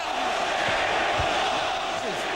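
A boxing arena crowd boos and jeers in a steady, dense roar after the referee stops the fight, a continuous wash of disapproval with no clear speech standing out.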